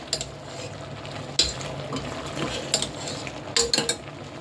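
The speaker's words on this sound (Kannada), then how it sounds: "ಇವಾಗ ಇದನ್ನು ಸ್ವಲ್ಪ ಫ್ರೈ ಮಾಡೋಣ" Goat tripe (boti) frying in a pan, a soft steady sizzle punctuated by sharp metallic clinks and scrapes of a spoon stirring against the metal, no voices.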